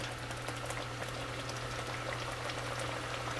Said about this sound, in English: Unfortunately, I'm over boiling it a little bit.